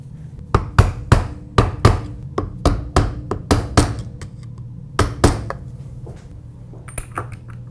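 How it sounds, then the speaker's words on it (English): A socket on the clutch hub nut of a ProX-rebuilt CRF450X is struck with a hammer, giving a run of sharp metallic taps, some in quick pairs, close up over a low steady hum. "I'll generally give the socket that fits the clutch hub nut a tap as well"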